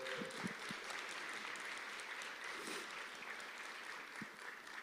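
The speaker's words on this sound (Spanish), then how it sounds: "Dale un aplauso a Jesús de Nazaret." Continuous clapping from a large church congregation, dense and even, somewhat distant and faint, with a few scattered shouts mixed in.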